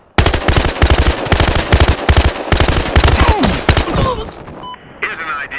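Automatic gunfire rattles in the Battlefield Hardline video game, with loud rapid bursts of shots close by, several separate volleys, and faint shouting voices mixed in toward the end.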